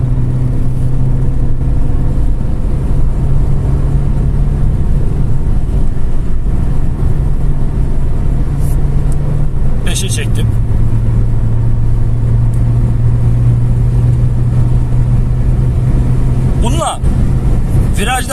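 A 2008 Renault Megane 2 with a 110 hp engine pulls in fourth gear, its steady engine drone and road rumble loud and continuous, with a slight rise in pitch partway through under wind noise.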